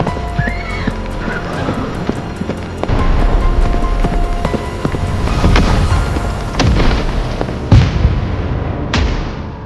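Cannon fire and explosions boom through a dense battle sound effect evoking the 1757 Battle of Plassey, heavy blasts landing over a constant roar, with horses neighing and hooves clattering in the mix.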